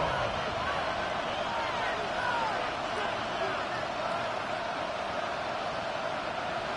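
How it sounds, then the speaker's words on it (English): A stadium crowd at a football game roars in a steady, dense wash of noise that stays loud and unbroken throughout. "This crowd into it now."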